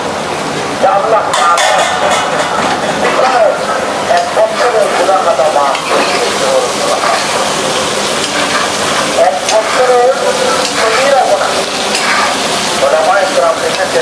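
Chicken pieces frying in a pan, a loud continuous sizzle with stirring scrapes throughout, under a person talking.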